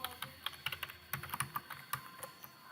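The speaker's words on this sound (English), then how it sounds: "let me get the typing correct on that" Rapid, irregular clicks of someone typing on a computer keyboard, close and fairly quiet, with bursts of keystrokes and brief pauses between them; no talking.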